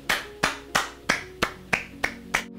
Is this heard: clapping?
yes